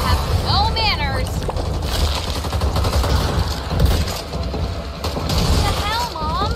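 Rapid gunfire bursts in the zombie shooter video game Back 4 Blood, dense and loud throughout, mixed with mechanical clatter and a steady game soundscape.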